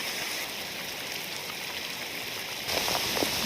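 Heavy rain pours steadily in a forest, a dense broadband hiss of drops on leaves and ground that swells louder in the final second, with no voices.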